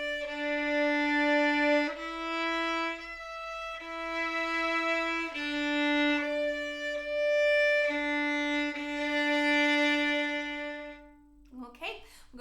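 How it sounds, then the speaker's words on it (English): Solo violin plays a grade 4 octaves technical exercise, sustained bowed octave pairs moving in steady long notes, close and clear, with a short rustle at the end. "octaves sounds like this for grade"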